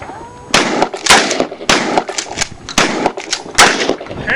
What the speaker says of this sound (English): Don't shoot fast. Try to hit the target.